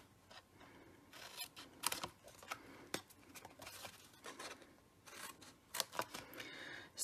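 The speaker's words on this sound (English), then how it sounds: "Cut off all the corners." Scissors snip the corners off a folded paper card, a series of quiet, sharp, irregularly spaced crisp cuts close to the microphone with soft paper rustling between them.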